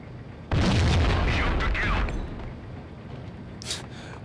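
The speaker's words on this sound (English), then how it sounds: "Throw a grenade in there once again." A loud, close grenade blast in the PS2 shooter Max Payne booms suddenly, then rolls off into a long rumbling decay before a brief smaller burst near the end.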